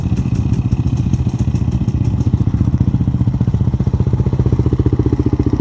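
A KTM dual-sport enduro motorcycle idles up close at a state forest group ride, its engine beating in loud, rapid, even pulses with a faint clatter and no talk.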